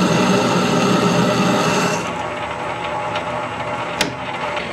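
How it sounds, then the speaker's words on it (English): A Harrison lathe turns slowly while taking its first cut on a back plate, giving a steady close mechanical whir and hiss that softens midway, with one sharp click near the end. "I'm going to slow it down, slow the lathe right down for its first cut."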